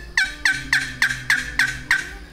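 A wild turkey calls in the open during a hunt, giving seven sharp, evenly spaced notes in quick succession at fairly close range, with no talking.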